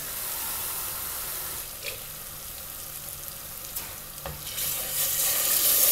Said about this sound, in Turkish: yavaş yavaş su eklemeye başlıyorum